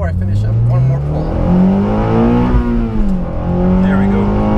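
A 9th-generation Honda Civic Si accelerates hard, its engine note climbing steadily through the revs, loud and close from inside the car.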